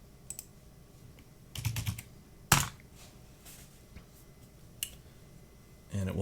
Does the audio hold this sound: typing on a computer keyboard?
yes